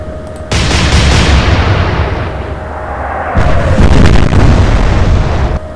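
Warship main guns fire in the Atlantic Fleet naval strategy game, two heavy booming salvos a few seconds apart, each loud and close with a long rumbling decay, and no talking over them.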